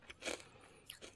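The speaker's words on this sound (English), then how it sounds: "Basically a very crunchy Skittle." Crunchy freeze-dried Skittles candy bitten and chewed, a few quiet, close crunches in quick succession with brief pauses.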